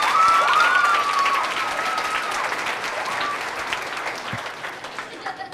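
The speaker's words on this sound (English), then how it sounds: "Give Zach another round of applause," At a school board meeting an audience applauds a student, a full wash of clapping that starts loud and slowly thins, with some talk and a whistle-like tone early on.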